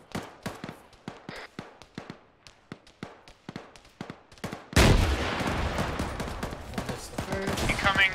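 Video game combat with a rapid run of sharp gunshots, followed by a loud blast from an RPG or grenade explosion and a long, rumbling roar that gradually fades.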